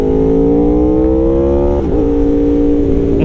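A 2018 Aprilia RSV4 RR sport motorcycle pulling hard in first gear at about half throttle, its engine note climbing steadily loud and close, then a brief dip before holding a high, buzzing drone.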